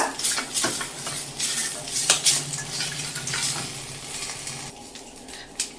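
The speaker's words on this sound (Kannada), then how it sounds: "ಇದೆಲ್ಲನೂ ಸ್ವಲ್ಪ ಫ್ರೈ ಮಾಡ್ಕೊಳ್ಳೋಣ" Garlic and ginger frying in a pan for radish chutney: a close sizzle broken by stirring scrapes and clinks of a utensil against the pan, with no one talking.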